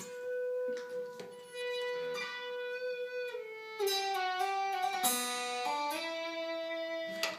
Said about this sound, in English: It magnetically stimulates the string and makes it kind of sound like a violin.